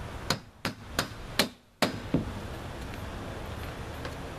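Six sharp hammer blows drive a nail into metal roof drip edge, spaced roughly a third of a second apart and ringing close up, followed by quiet outdoor background.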